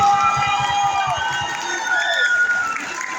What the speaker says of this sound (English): One more round of applause for all of our teachers here today.